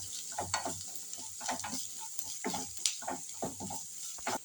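Curry leaves and onion sauté in a pan for a soya fry, a faint, close sizzle punctuated by rhythmic scraping stirs about every half second, with no voices.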